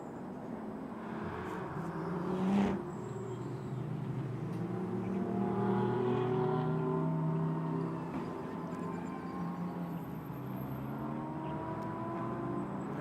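GT race cars at the SRO GT Cup on the Beijing circuit sweep past, rising and falling engine whines layered over each other with a sharp close pass early, then several cars droning by at a distance.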